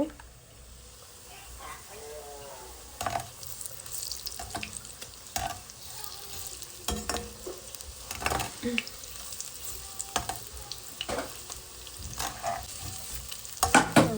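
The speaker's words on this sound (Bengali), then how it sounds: "এখানে হচ্ছে এই যে কাবাব ভেজে নেব।" Kebabs sizzle and fry steadily in a pan, with intermittent stirring and utensil scrapes close by, while a person talks over the cooking.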